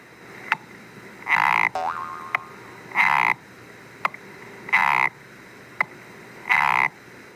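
Four loud, nasal croaking calls from a Korean narrow-mouthed toad (maengkkongi), evenly spaced about every second and a half, each preceded by a sharp tap, with a faint chirp between.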